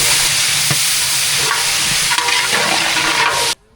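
Vegetables for a veg biryani sauté in a hot pan, a loud, constant hiss of sizzling oil with occasional stirring scrapes, cutting off abruptly at the end.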